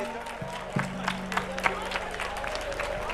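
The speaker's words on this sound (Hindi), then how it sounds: "जितना आनंद आया उससे ज्यादा तालियों की आवाज आनी चाहिए" A crowd at a live Mahashivratri poetry festival in Banaras gives a round of applause, a fairly faint, scattered clapping spread across the whole stretch, over a low steady hum.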